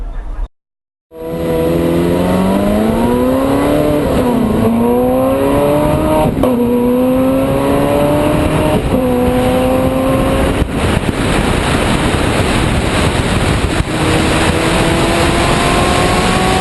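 A Ferrari F430 Scuderia drives on a race track, its engine revving loudly and close, climbing through the gears with rising pitch and brief dips at each shift.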